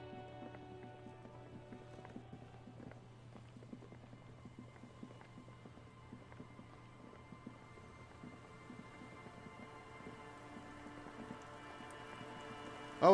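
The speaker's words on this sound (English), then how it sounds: "Oh, it's starting to rain." Rain falling in the game Disco Elysium, a soft, steady patter with scattered faint drips under a quiet ambient hum, gradually thickening, with no voices.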